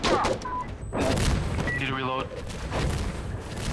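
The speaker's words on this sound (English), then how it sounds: "Let's wait for after the mortars." Mortar rounds land in an Insurgency firefight as dull booms and bursts mixed with gunfire, at moderate distance, while players talk over the combat.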